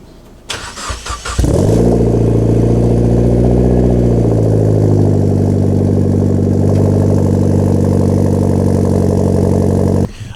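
Mitsubishi Lancer Evo X engine starting warm: a brief cranking whir, then the engine catches with a rev flare and settles into a loud, steady idle close by.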